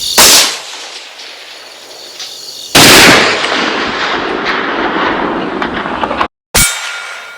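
Rifle shots at a steel target 500 yards away, two sharp loud cracks several seconds apart, each trailing into a long rolling echo and outdoor wash, with a brief dropout near the end.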